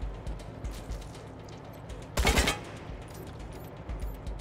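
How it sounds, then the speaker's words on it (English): Gunfire in the Wasteland 3 video game: one loud, brief burst of rapid shots stands out midway against quieter game ambience. "I'm just gonna keep taking regular shots at this thing."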